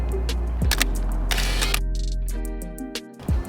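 Contax 645 medium-format camera firing a slow half-second exposure: a mechanical clack opens the shutter, a brief whirring pause follows, then a second clack closes it, all loud and close.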